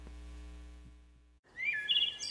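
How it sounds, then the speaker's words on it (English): Birds chirp and tweet in short bright calls after a brief pause, fairly close and clear, following a low sustained tone that fades out. "the sound of birds chirping"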